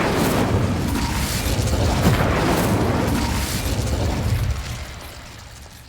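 A fiery Incendio spell is cast in Hogwarts Legacy, a loud whooshing roar with a booming burst that rumbles for several seconds before easing off toward the end.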